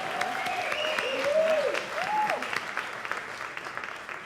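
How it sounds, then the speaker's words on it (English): An audience claps at a sustainability event, applause strong at first and then thinning out and fading over several seconds. "they deserve a round of applause"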